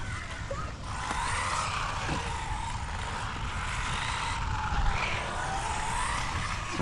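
An Arrma Mojave Grom RC car drives across rough urban ground, its steady whining motor and tyre rumble running continuously at moderate loudness with slight surges, and no talk over it.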